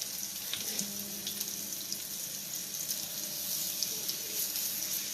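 Turkey breasts and peppers cook in oil in a skillet, giving a steady, fairly loud hiss and sizzle that runs unbroken through the whole stretch.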